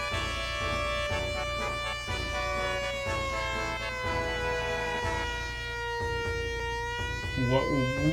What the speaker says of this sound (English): Where are there air raid sirens going off?